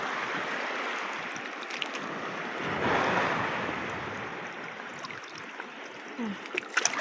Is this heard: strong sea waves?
yes